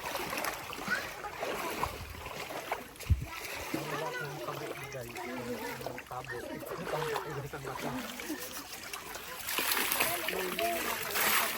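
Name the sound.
water splashing while bathing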